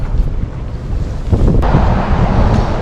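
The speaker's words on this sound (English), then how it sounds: "Dang, it's so windy." Strong wind buffets the microphone at a St. Augustine beach during land-based fishing, a loud constant roar blended with surf that swells louder halfway through, with no talking.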